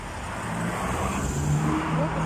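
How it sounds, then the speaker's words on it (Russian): Morning traffic passes on a road beside a bus stop, a continuous close rumble and roar of cars driving by with no pauses. "А вот рядом машины едут на работу."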